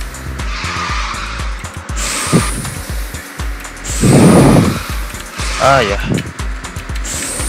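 Cars drift in the racing video game QQ Speed, with repeated tire squeals and skids over a steady engine drone, while someone talks and exclaims over the action.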